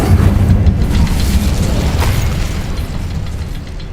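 The Incendio fire spell cast in Hogwarts Legacy, a loud roaring burst of flame with booming rumble that tails off gradually over a few seconds, with no talking.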